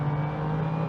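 A 580hp BMW M2 accelerating hard on a race track, a steady loud engine drone heard from inside the car, continuous and unbroken.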